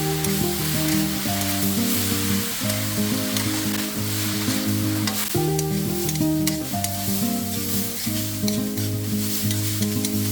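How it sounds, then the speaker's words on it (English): Shredded potatoes stir-fried in a wok give a steady, close sizzle with continuous tossing and scraping throughout, set against a sustained tonal background. "Be sure to consistently stir around, toss them around to prevent the shredded potatoes stick on the wok"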